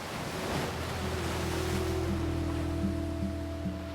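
Sea waves wash in a continuous, steady surf roar with a faint low hum underneath, with no voices over it.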